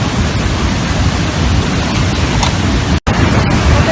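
A river in Peru swollen by a huayco mudslide flood roars as a constant, heavy torrent, broad and unbroken, with one brief dropout near the end and no talk over the rushing water.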